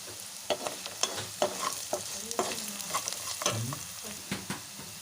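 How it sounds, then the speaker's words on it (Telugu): Garlic fries in oil for an amaranth curry while turmeric is stirred in, a steady close sizzle broken by a regular rhythm of spatula scrapes and taps against the pan, with no one speaking. "ఇలా వెల్లిపాయలు ఆయిల్లో మంచిగా గోలిన తర్వాత పసుపును కూడా యాడ్ చేసుకోవాలి"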